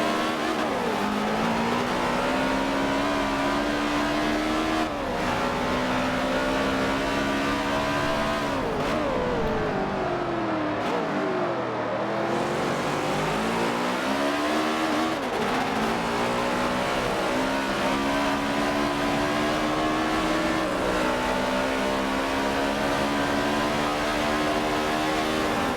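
Several race cars run close together at Homestead Roval in a sim racing game. Their engines drone loudly and constantly, with pitch sweeping down under braking and back up on acceleration through a corner, and no voices on top.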